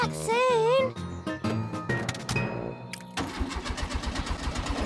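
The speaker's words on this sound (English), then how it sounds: "Oh dear, the car won't start." Cartoon car engine cranking and failing to start, a wobbling whine followed by stuttering sputters and chugging turnover that never catches, with rhythmic knocking at the end.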